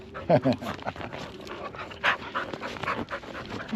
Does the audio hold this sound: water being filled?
no